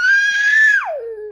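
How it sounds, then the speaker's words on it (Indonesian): A young child lets out a single loud, piercing scream indoors late at night, holding a high shrill pitch before it drops sharply and trails off lower. "Adekku ini suka teriak-teriak dan kuping aku jadi pengang gara-gara dia."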